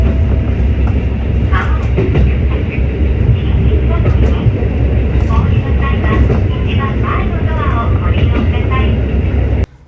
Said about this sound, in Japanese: 鉄橋を横断している音は聞こえます。